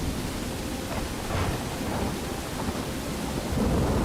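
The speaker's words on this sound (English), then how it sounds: "The way that the storm sounds and looks." A thunderstorm in the video game Skyrim rumbles with steady heavy rain and low rolling thunder, a dense continuous wash that swells slightly near the end.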